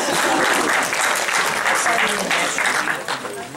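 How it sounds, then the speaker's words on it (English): Audience applause at a memorial gathering fills the room, steady and moderately loud, with faint voices mixed into the clapping before it tapers off. "round of applause."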